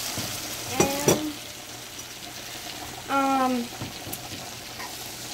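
Buttered shrimp frying in a pan, with short bursts of sizzling and stirring clatter, a louder sizzle surging midway, against a quiet kitchen background.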